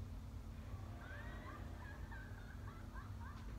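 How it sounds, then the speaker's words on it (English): A Cucco chicken in Hyrule Warriors: Definitive Edition clucks and warbles in a string of short, wavering calls over a steady hum of game background sound. "It's a chicken."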